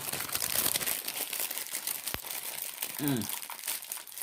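Plastic packaging around a Cold Steel Bushman knife crinkles and rustles continuously as it is handled up close, at a soft, steady level with a few sharper crackles.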